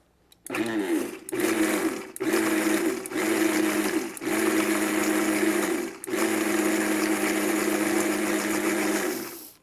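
A Vitamix Professional Series 500 blender pulses basil walnut pesto in short bursts of loud motor whine, cutting out briefly between pulses before one longer run, heard up close with no talking.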